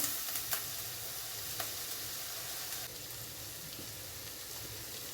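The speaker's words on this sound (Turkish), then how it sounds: "Şimdi yıkadığım mercimeği döküyorum üzerine" Washed lentils tipped onto sautéed onions in a hot pot for an Ottoman-style lentil soup, giving a steady broadband sizzle with a few sharp clicks early on, the frying hiss dropping slightly in level partway through.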